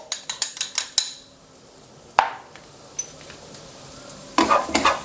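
Minced garlic tossed into about two tablespoons of hot vegetable oil over high heat, a run of sharp metal spatula clinks against the pan, then a sizzling stir-fry with more scraping bursts near the end.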